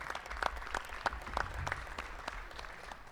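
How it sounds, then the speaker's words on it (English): Sparse, distant applause from a small audience at a mayor's community meeting, faint clapping with a few sharper claps standing out as it thins over a few seconds. "Give her a round of applause"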